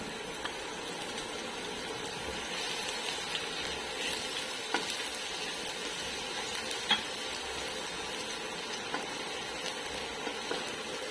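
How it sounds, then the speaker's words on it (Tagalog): Garlic sizzles steadily in about two tablespoons of hot oil, a soft continuous frying hiss broken by occasional small ticks and stirring clicks, with no talking. "Then, una nating igisa ay ating bawang."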